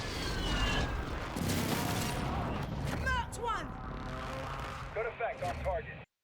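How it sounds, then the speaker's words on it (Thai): Gunfire from an airstrike plane killstreak in Warzone 2.0, a dense burst of heavy thumping shots and booms followed by whooshing and sweeping mechanical tones, loud and continuous before cutting off. "ก็จะเป็นการเรียกเครื่องบิน ออกมายิงปืนใส่ตุ๊บๆุตามตำแหน่งที่เราทำนะครับผม"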